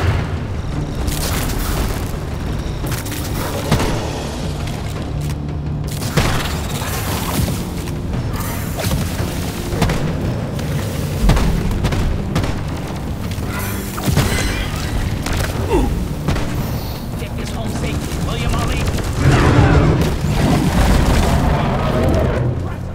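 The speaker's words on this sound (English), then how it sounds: "Watch for the cluster grenade!" Cluster grenades going off in Deep Rock Galactic: a dense, loud run of deep booms and crashing blasts rolls on without a break, with game voices calling out over the chaos.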